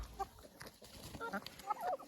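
Hens clucking softly in a backyard coop while being fed pressed yeast, a few scattered low clucks and short calls at moderate distance, no talk.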